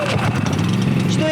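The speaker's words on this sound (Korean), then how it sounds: "한번 당겨 놓고 기다려 볼게요. 시동이 걸렸죠?" A low-cost portable generator's small engine catches after a pull-start and settles into a steady, buzzing idle hum, heard close by beneath a person talking.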